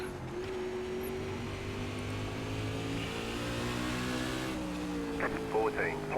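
Silver Crown race car accelerating at Langley Speedway in iRacing, a steady droning engine note that rises gradually in pitch as the throttle opens, loud and continuous with a few brief clicks near the end.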